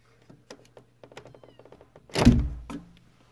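A car's power window lowers with a short whir and a loud thunk about two seconds in, after a few faint taps and clicks in a quiet interior.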